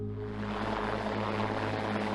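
An LA County Sheriff's Department helicopter flies over a cliffside rescue scene, its rotor and engine making a steady, continuous whirring drone with no speech.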